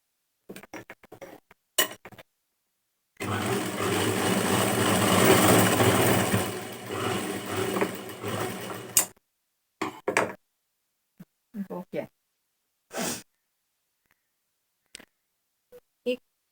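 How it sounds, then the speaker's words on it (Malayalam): Sewing machine stitching a scrap of cloth to test the stitch, running for about six seconds in one steady whir, framed by scattered clicks and handling knocks before and after. "നമ്മൾ കഷ്ണം തുണി എടുത്തിട്ട് മെഷീൻ്റെ സ്റ്റിച്ച് ഒന്ന് ചെക്ക് ചെയ്യണം"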